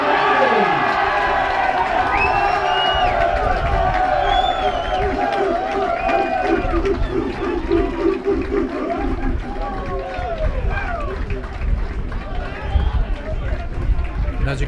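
Rugby crowd at a cup final clapping and cheering loudly after the match, dense sustained applause with shouts and whistles rising over it.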